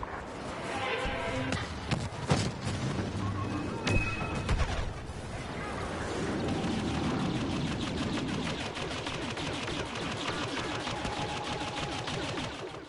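Star Wars Battlefront video game battle with dense, continuous blaster gunfire, rapid bursts and scattered explosions layered over a busy background, loud and sustained throughout.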